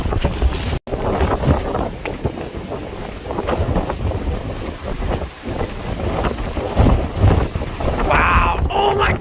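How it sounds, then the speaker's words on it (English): Strong wind gusting into the microphone outdoors during fire weather, rough buffeting rumble that surges and eases across the span, with a brief dropout near the start and a few faint voices. "stay out of this windy weather."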